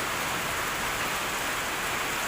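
Heavy rain pouring down as heard from a terrace, a dense continuous roar of falling water filling the whole short stretch, loud and unbroken.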